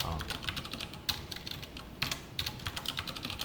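Rapid typing on a computer keyboard, including repeated presses of the slash key, while entering Java code comments; a close, steady patter of sharp clicks with a few louder strokes and no talk.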